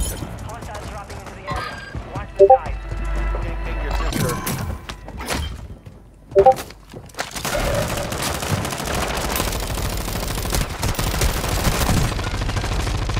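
Rapid video-game gunfire bursts out in a loud, dense barrage alongside other game effects, with two sharp louder impacts standing out early and several players talking over the action.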